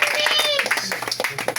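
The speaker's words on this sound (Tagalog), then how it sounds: "palakpak mo na palakpak." Audience at a live show clapping their hands, a brief burst of scattered claps under a loud voice speaking over them.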